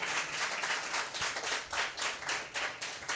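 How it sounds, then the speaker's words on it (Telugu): A church congregation claps together in a steady, rhythmic beat during a sermon, each clap landing in regular succession at a moderate level with no speech over it. "గట్టిగా చప్పట్లు కొట్టు."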